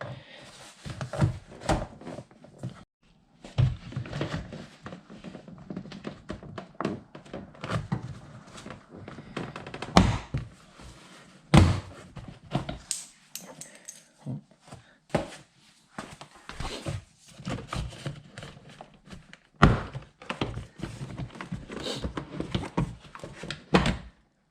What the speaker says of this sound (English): pry the door card away from the door and it should pop out